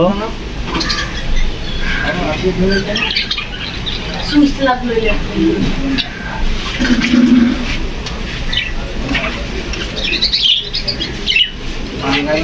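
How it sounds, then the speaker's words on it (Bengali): Many colourful birds in a pet bird shop in Narsingdi chirp, tweet and squawk together, close and busy, with sharp calls overlapping throughout and brief human voices among them. "পাখির কিচির মিচির শব্দ"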